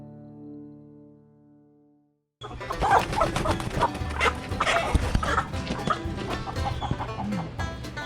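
A crowd of chickens on a ranch, about to be processed, clucks and squawks close by, with a dog barking among them, after a brief low hum.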